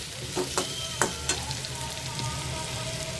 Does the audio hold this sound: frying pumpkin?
yes